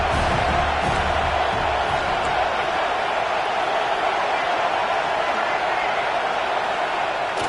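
A stadium crowd roars steadily in a college football video game, a dense, unbroken wash of cheering that holds at a constant loud level throughout, without breaks or distinct individual voices.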